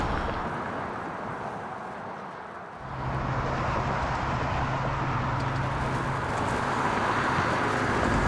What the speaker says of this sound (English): It's loud with the traffic, and it's really high.